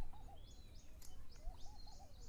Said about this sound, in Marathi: पक्ष्यांचा आवाज येत असेल.